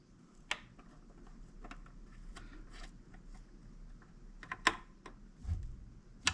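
A long screw driven into an external hard drive enclosure makes faint, sparse ticking clicks and small plastic scrapes close by, with a few sharper snaps against quiet background.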